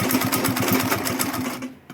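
A sewing machine runs steadily while stitching around a denim tote bag, its close, rapid needle rhythm pulsing evenly for most of the clip before slowing and stopping near the end.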